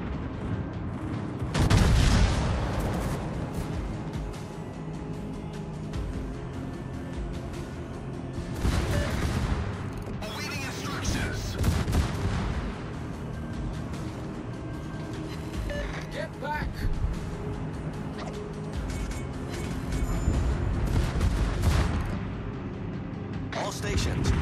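Heavy warship naval gunfire in World of Warships, with German Pommern battleships, booms out in several deep, loud salvos spread across a continuous rumbling battle, while voices talk over it.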